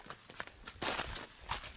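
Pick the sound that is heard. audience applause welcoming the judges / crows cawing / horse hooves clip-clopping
horse hooves clip-clopping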